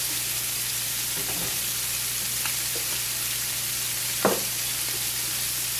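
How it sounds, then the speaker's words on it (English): Scallops sizzle steadily in a hot greased pan with a constant frying hiss, broken by a few brief pops and one sharper crackle of grease splattering. "Oh, a little bit of grease splatter."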